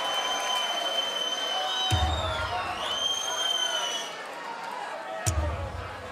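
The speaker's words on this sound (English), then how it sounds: "getting the crowd on their feet" Crowd at a BDO World Darts Championship final cheering and applauding, a broad roar bursting up twice amid a commentator speaking over the noise.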